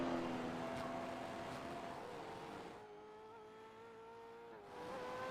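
A Mustang V8 race car in a sim racing Grand Prix at Detroit, heard faintly as a steady engine drone that dips briefly as though lifting off, then returns near the end.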